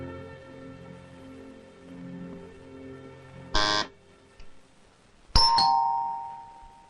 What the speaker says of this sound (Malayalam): ആ കോളിംഗ് ബെല്ലൊന്ന് അടിച്ചു നോക്ക്.